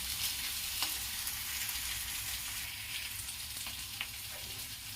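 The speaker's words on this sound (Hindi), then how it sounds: "ये आलू उबला हुआ है। इसे थोड़ा हल्के हाथ से चलाना, नहीं तो बिल्कुल टूट जाएगा। इसे मैं 2-3 मिनट भूनूंगी।" Boiled potatoes fried and gently stirred in a pan, giving a steady close sizzle with a few faint scrapes of the spoon, no talking.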